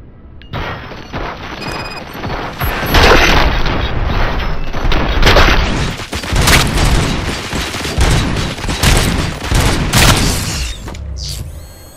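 Gunfire in RoboCop: Rogue City: loud, close volleys of shots and heavy booms mixed with mechanical clanks, pounding in irregular bursts for several seconds.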